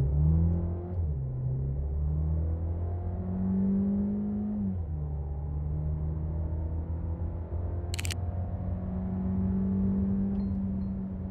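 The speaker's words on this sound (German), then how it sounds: "Wir haben gerade die Beschleunigungsmessung gemacht von 0 auf 100" Skoda Superb 2024 accelerating hard from 0 to 100 km/h, heard from inside: a steady loud engine drone climbs in pitch through the gears, with one brief drop at a shift and a short click partway through.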